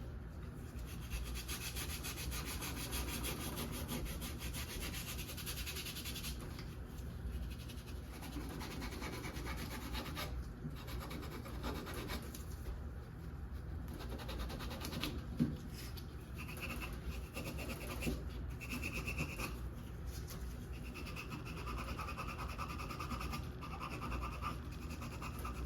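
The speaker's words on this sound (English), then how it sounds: "take our Scotch-Brite pad and scuff the entire frame" A Scotch-Brite pad scuffs a frame in a hydrographics lab, a continuous quiet rubbing and scratching with irregular strokes, close and faint, no talk.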